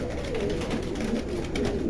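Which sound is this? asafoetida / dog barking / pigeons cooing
pigeons cooing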